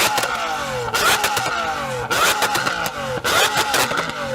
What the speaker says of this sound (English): So I'm going to rev up my Aventador.